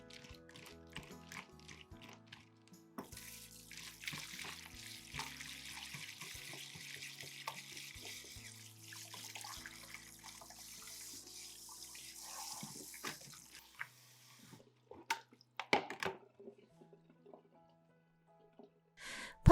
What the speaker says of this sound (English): Put them in a strainer and sprinkle some salt. Rub and rinse well.